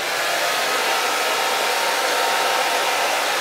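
Barbershop blow dryer running steadily on hair, a loud continuous broadband whoosh at close range, with no talking.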